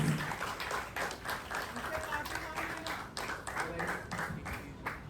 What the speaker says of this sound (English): So please give a huge round of applause for him.